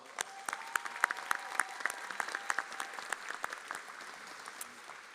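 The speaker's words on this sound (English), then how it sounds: "So I think they deserve another round of applause." Scattered applause from a graduation audience at a college preparatory academy, individual claps standing out as sharp, uneven hits over a soft room wash, lasting about five seconds without much build.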